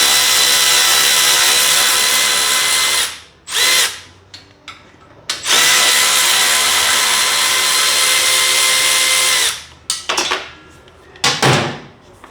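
A power drill backs screws out of a Murray MT100 riding mower during servicing: loud, sustained whirring runs of several seconds each, broken by short pauses and brief bursts, with no talk.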